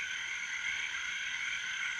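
Costa Rican tree frogs call in a dense, continuous chorus of high, buzzing trills, steady and moderately near, with no other sounds.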